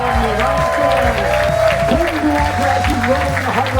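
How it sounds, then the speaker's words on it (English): Audience applause for filmmakers and stars at a festival movie night, clapping carried under music and a crowd murmur throughout the few seconds. "Applause for the incredible filmmakers, the stars, Lucy Bartholomew"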